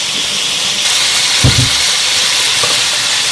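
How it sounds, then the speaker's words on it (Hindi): Chicken pieces deep frying in hot oil for chicken nihari give a steady, loud hiss throughout, with a few brief bumps of pan or utensil sounds midway. "चिकन को हमें अच्छी तरह इस ऑयल में तल लेना है।"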